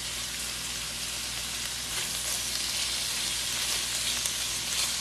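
Hillshire turkey sausage sizzles in a pan, a loud, steady hiss of frying fat that fills the whole stretch with no talk.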